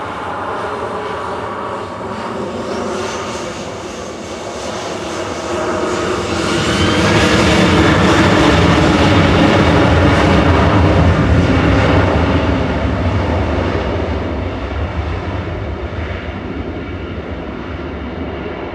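A nine-year-old Sun Express Boeing 737-800 departs Manchester Airport for Dalaman, its jet roar steady at first, then swelling to a loud, broad peak midway before easing slightly as it climbs away, with no voices.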